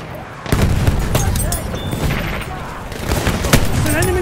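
A grenade explosion and rattling gunfire in a Battlefield 1 match on the River Somme, sudden booms and sharp shots at close range amid ongoing battle noise, with voices shouting over it.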